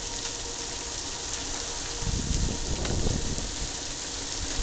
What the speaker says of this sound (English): you can barely hear them over the rain and the wind